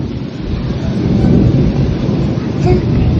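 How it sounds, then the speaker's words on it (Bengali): Thunderstorm with rolling thunder and rain, heard from a third-floor window, a loud, steady broadband roar of wind and rain holding throughout with a slight swell near the end. "দেখেছো বাবা ঝড় হচ্ছে?"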